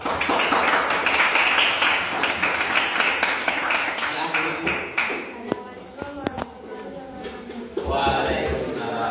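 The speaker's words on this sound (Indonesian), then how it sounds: "Tepuk tangan untuk kelompok 2." A classroom full of students clapping for a student group, a loud burst of hand claps that fades into scattered claps and taps, with voices talking toward the end.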